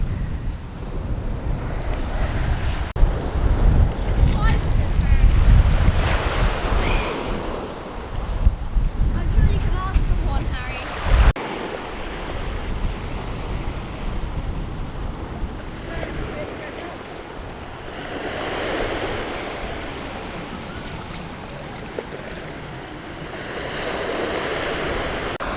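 Sea waves wash onto a beach during a hunt for sea glass, surging and receding in a steady rhythm under heavy wind buffeting on the microphone.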